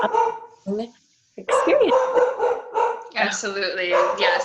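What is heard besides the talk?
dog barking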